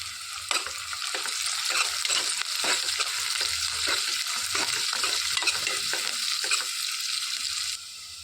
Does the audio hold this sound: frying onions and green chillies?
yes